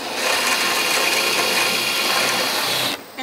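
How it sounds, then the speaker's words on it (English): Drill bit boring through aluminum rivets on an Airstream travel trailer roof, a steady close grinding whir that runs continuously for about three seconds before cutting off abruptly. "Drill through the rivet in forward mode."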